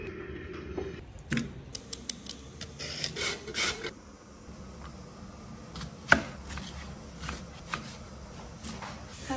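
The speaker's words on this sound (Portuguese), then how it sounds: "Agora é a pior parte de fazer comida, que é picar cebola." Onion chopped with a knife on a cutting board, a loose run of quick taps and scrapes that clusters early and then thins into sparse knocks, close and moderately quiet.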